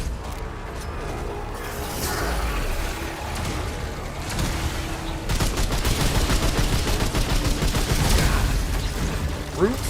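Enemy grenade launcher firing in the video game Remnant 2, loud repeated bursts of gunfire and blasts growing denser in the second half over game noise, with no talking.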